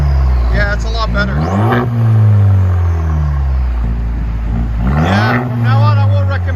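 A Chevy Silverado with a 2.7L turbo four-cylinder and straight-pipe exhaust revs up twice, each rev rising into a loud rumbling roar with turbo whistle before falling back to idle, close and prominent.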